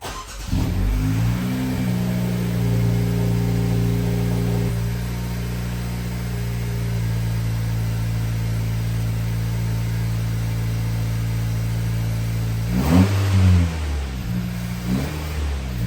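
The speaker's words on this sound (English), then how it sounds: "let's go ahead and take a listen to what it sounds like now with the downpipe installed" A 2024 Acura Integra with an aftermarket downpipe idles with a steady low drone, broken by a blip of revs at the start and again near the end; close and loud, with no talking.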